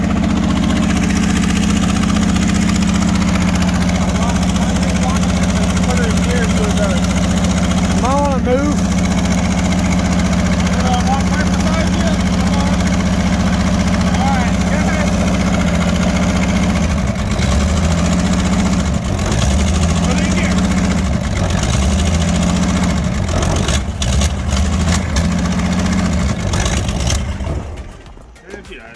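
A 1965 Ford Mustang engine idles at a high, steady pitch close by, with a person briefly speaking over the constant rumble before it cuts off near the end.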